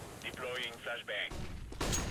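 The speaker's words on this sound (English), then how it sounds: "Flashbang." A flashbang grenade bursts during a competitive Counter-Strike match, sharp in-game blasts and gunfire-like cracks mixing with bright ringing tones over a dense, busy game soundscape.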